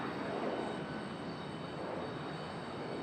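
A Boeing 777 departing Charlotte Douglas airport makes a faint, distant, steady jet roar that stays even throughout, with no voices.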